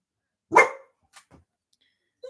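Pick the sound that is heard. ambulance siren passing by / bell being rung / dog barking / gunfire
dog barking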